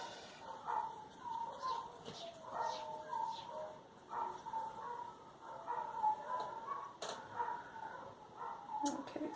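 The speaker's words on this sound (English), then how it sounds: "Apologies if you can hear my neighbor's dogs and my crazy child." The neighbor's dogs bark and yip faintly in the distance, in scattered bursts under a low background of household noise.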